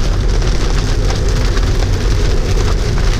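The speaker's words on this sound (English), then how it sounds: "Ooh, we're getting some rain." Heavy rain drumming steadily on a Tesla Model 3 while it drives, a loud, dense, continuous patter with road noise underneath.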